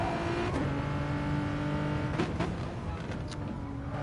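A race car in Gran Turismo Sport accelerates hard, its engine note climbing steadily and staying loud, with a few sharp gear-shift or tire blips along the way.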